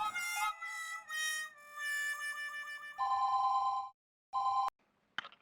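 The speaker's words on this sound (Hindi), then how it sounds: "मेहता साहब, आप जल्दी से ऑफिस में फोन करो" An office telephone rings in repeated electronic bursts with short gaps between them, loud and close, followed by a sharp click as the call connects. No one speaks.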